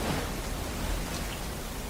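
Steady, even hiss of rain falling, a dense wash of noise with no voices and no breaks.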